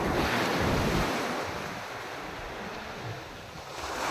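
Steady surf rolls onto a sandy shore while wind rushes across the microphone, loudest at the start and easing into a continuous broad wash; no voices are present.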